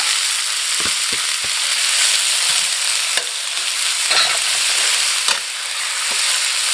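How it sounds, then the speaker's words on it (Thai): Garlic, chili and Chinese kale stir-fried in a wok give a steady, loud sizzle, with occasional scraping clicks from the stirring utensil and no talking. "กระเทียมสับ พริก อันนี้ก็ผัดให้หอมเลยนะครับหอมดีแล้วก็คะน้า"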